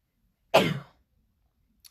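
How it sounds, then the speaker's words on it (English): A single sharp sneeze bursts out close and loud, decaying within half a second, followed by silence and a tiny faint click near the end. "I have to sneeze so bad."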